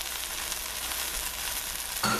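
Onions going into a hot pan with thyme, garlic and celery for lamb with beans and kale, giving a close, continuous hiss of frying that swells slightly at the end.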